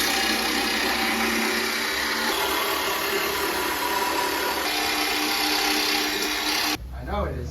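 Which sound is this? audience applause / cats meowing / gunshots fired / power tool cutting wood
power tool cutting wood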